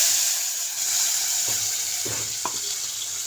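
Masala paste tempering with curry leaves in oil and bangda mackerel frying alongside give a soft, continuous sizzle with a few faint clinks and stirring touches.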